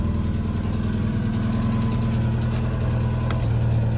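An old Opel Kadett C's engine runs at a steady idle, a continuous low, even rumble that stays loud and close throughout with no voices over it.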